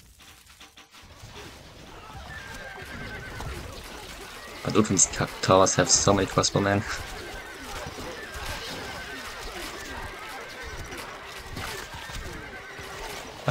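Horses whinny repeatedly amid clip-clopping hooves during a large AI battle with horse archers in the strategy game Stronghold Crusader, the neighs loudest in the middle of the stretch, over a steady battle din while someone talks.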